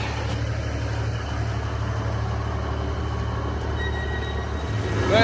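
Steady low engine rumble of a train idling or moving slowly nearby on the line between Barton Hill and Malton, continuous and even, swelling slightly at the end.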